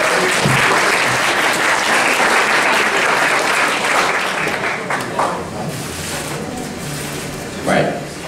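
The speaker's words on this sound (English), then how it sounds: "Give him a big round of applause" A crowd at a team presentation for a 15th birthday celebration gives the quiz master a big round of applause, loud sustained clapping filling the room that eases slightly later on, with a few scattered thumps and voices underneath.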